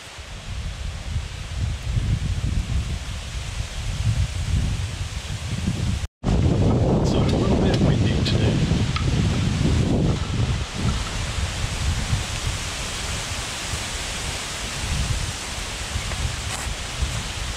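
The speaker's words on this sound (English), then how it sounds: "It's too windy to cook outside" Strong, continuous wind gusting and roaring around a canvas bell tent on a hunting campsite, loud and close with rustling throughout and a brief dropout partway.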